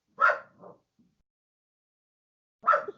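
A dog barks at someone climbing the stairs of an apartment building: two sharp barks with a short follow-up yip at the start, then quiet, and another loud bark near the end, close by and with no talk.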